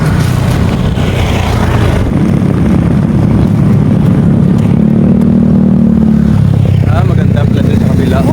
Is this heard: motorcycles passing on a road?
yes